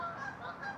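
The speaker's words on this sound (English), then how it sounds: "geese up there" Geese honking overhead beside a lake, a short burst of faint, distant honks over outdoor background noise.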